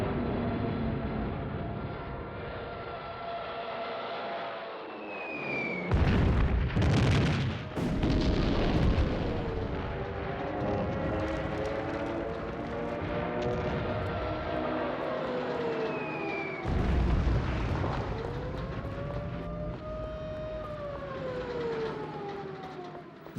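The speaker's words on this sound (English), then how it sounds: "Hitler orders the bombing of Warsaw." Archival wartime bombing of Warsaw: heavy booming artillery and explosions in bursts, with whining tones and aircraft-like drones layered over a dense, loud rumble.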